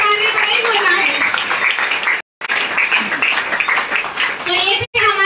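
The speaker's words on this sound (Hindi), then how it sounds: "सर के लिए एक बार जोरदार तालियां, अरे तालियां बजाइए" Audience clapping loudly for a guest at an event in Nallasopara, a dense sustained round of applause broken by two brief dropouts, with some voices mixed in.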